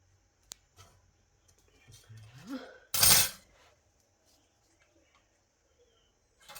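A single short crisp cut through scrapbooking paper while making a pop-up page, close and sharp, surrounded by quiet handling rustles and faint clicks.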